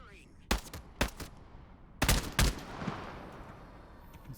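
Sharp bursts of gunfire in the Radius video game: two quick single shots, a pause, then a louder double burst, with fading reverberant tail afterward.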